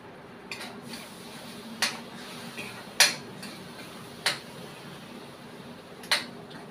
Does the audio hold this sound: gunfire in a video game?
no